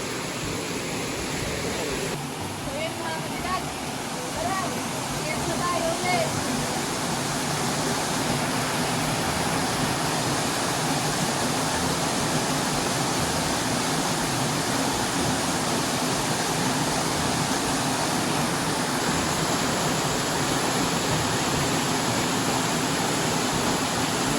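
A steady, unbroken roar of Sapot Falls, a tall waterfall in the Philippines, broad and hissing, holding the same level throughout with no pauses or other clear sounds.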